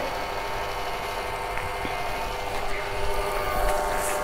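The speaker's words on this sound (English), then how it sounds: "Now we are going to increase the load onto the motor further" A DC motor runs under increasing load on a test bench, producing a steady close hum and whine with faint mechanical ticks, growing slightly louder toward the end, with no talking.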